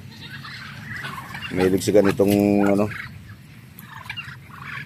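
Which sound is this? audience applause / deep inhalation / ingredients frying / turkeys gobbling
turkeys gobbling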